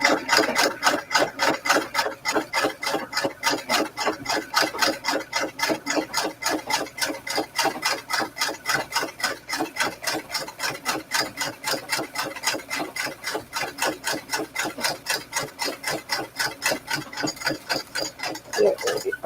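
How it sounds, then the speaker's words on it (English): A sewing machine stitches along the edge of lace, giving a fast, even mechanical chatter that runs loud and without a break for the whole stretch. "let's just sew off the edge of this"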